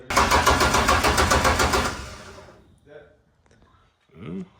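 A Ford Falcon engine on a revival project, just after a fuel leak fix, cranks loudly and rhythmically for about two seconds, then stops, followed by brief clunks and a short voice.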